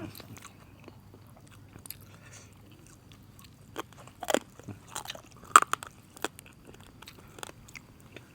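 Bones crunched and chewed while eating, heard as sparse, close bites and crackly crunches, clustered irregularly in the second half over a quiet, low background.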